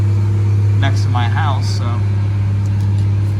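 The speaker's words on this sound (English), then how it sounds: "Semi truck is going up the road" A semi truck drives up a nearby road, its engine a loud, steady low drone that holds constant for the whole stretch, with someone talking briefly over it.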